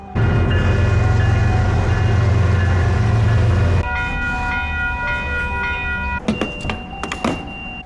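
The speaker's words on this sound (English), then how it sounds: "If you are lucky, you might catch a CP train rolling through." A Canadian Pacific Railway train rolls past, loud and close, with a heavy low rumble and steady tonal squeal that drops off midway, followed by sharp clanking bursts near the end.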